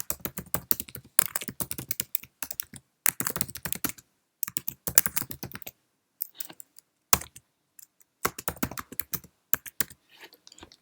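Bursts of rapid clicking keystrokes on a Mac desktop computer keyboard while a caption is typed for an Instagram Reel, coming in quick runs separated by short pauses, close and moderately loud with no voices.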